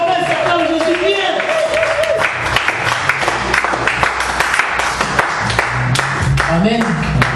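A church congregation claps and cheers to acclaim Jesus during an afternoon service, with sustained applause and rhythmic clapping under a preacher's voice and the crowd's responses.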